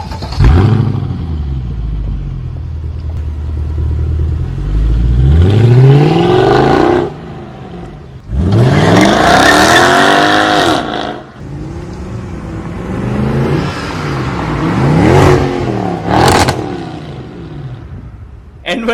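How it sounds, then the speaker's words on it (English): A Mercedes CLK 63 AMG Black Series with its M156 V8 engine revs hard in repeated loud bursts, rising and falling with a deep rumble, close by and with no one talking over it. "let's just take a listen to some M156 Bliss from the CLK 63 AMG Black"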